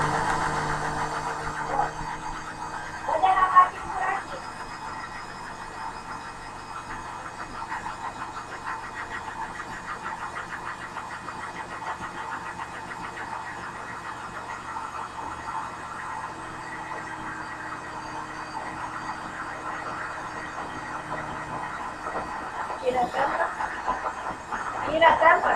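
A blender running steadily while homemade mayonnaise is made, a continuous even motor whir held for nearly the whole stretch, close by, with brief handling knocks near the start and end.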